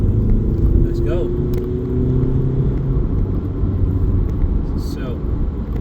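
A Skoda Yeti 2.0 TDI SE DSG 4x4 from 2014 pulling hard on the road, a steady diesel drone and road rumble rising in pitch, heard from inside the cabin without gear-change breaks.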